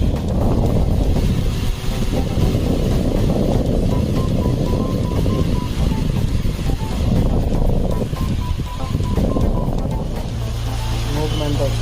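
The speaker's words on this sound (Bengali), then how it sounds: "ফ্যানের হাওয়ার শব্দে আপনারা হয়তো আমার কথাই শুনতে পাচ্ছেন না" A Tiger tornado electric fan blowing air at high speed, a loud, steady broadband rush of wind that continues without break, with a person talking over it.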